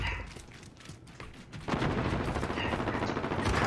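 Dense automatic gunfire in the video game Modern Warfare, a rapid continuous burst that starts softer and then swells loud and close for the rest of the stretch.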